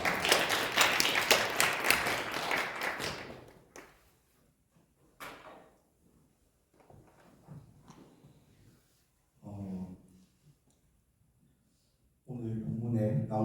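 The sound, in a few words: congregation applause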